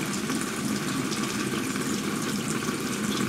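Tap water runs steadily and loudly into a sink for hand washing, a continuous broad splashing rush with no voices over it.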